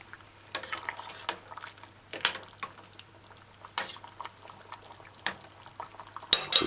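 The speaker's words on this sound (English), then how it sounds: "Stir it in." A spoon scrapes and clinks against a pan while potato coconut stew with Irish potato is stirred on the stove, in several separate strokes over a low steady hum, with no talk.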